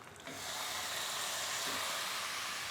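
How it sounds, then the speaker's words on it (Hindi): Marinated chicken drops into two tablespoons of hot oil in a pan over a high flame, and a loud, steady sizzling hiss starts after a brief quieter moment and holds throughout. "हमने 2 टेबलस्पून ऑयल लिया, गरम कर लिया, उसमें चिकन डाल देंगे।"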